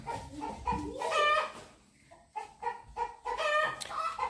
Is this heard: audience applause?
no